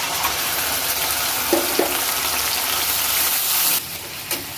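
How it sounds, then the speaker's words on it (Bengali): Masala spices with turmeric and salt fry in a pan over onions and chillies, a steady close sizzling hiss with a couple of soft clinks near the end. "মচলাখিনি ভাজি হৈ গৈছে"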